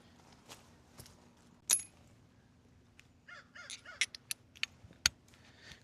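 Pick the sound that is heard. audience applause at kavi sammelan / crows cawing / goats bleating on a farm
crows cawing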